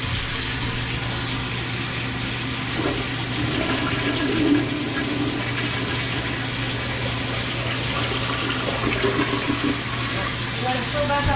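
A toilet flushes with a surging gush, followed by the steady hiss and trickle of the tank refilling over a constant background hum.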